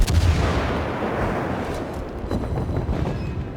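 Heavy naval guns of the cruiser Admiral Hipper firing in World of Warships, a loud booming volley opening the moment and rolling into a long rumbling decay.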